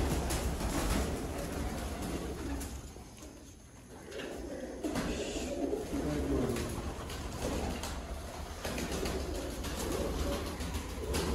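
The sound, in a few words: pigeon cooing, female pigeon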